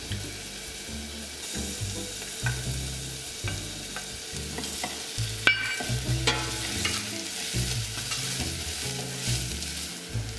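Onion and garlic fry in hot oil in a pan, a steady close sizzle broken by regular stirring scrapes and a brief clatter, with no voices.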